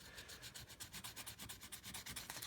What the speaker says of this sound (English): just going to use some very fine grit sandpaper